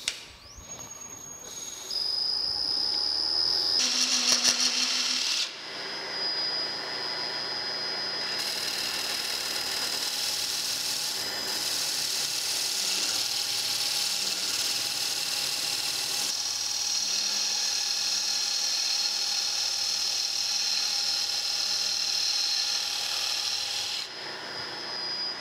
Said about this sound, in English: we'll come in here with the Bedan tool and just take it down to that diameter